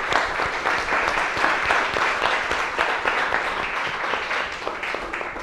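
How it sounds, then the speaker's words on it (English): A crowd gives sustained applause for catering staff at a chef showdown event, a dense steady wash of many hands clapping at even loudness throughout with no voices over it. "So a round of applause for Epicurean."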